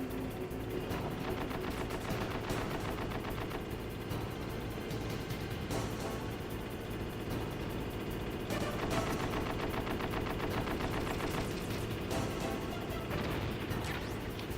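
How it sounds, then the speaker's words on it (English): Dense, continuous battle fire from the Metal Gear Solid video game during a grenade fight, with rapid gunfire-like bursts and crashing blasts layered loudly and steadily throughout, no voices. "It's just a grenade battle."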